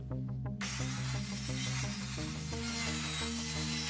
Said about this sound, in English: The first step in the installation will be to measure and mark your panels and then cut them to length.